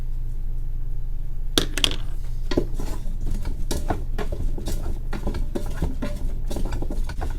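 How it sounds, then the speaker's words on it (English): Grated Parmesan shaken onto potatoes in a Ninja Foodi gives a scattered patter of light ticks and taps, close by, over a steady low hum. "Now let's throw in 1/2 cup of grated Parmesan."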